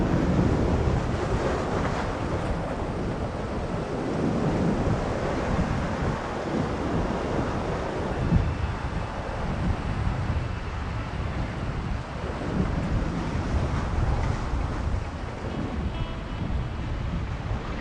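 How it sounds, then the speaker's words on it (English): Rough, churned-up ocean surf crashes behind a jetty on the Oregon coast, producing a continuous loud roar of breaking waves mixed with gusting wind buffeting the microphone throughout. "the ocean is a total raging mess behind us"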